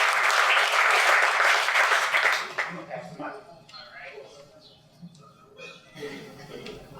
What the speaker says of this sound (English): A big round, LeadersConnect, round of applause.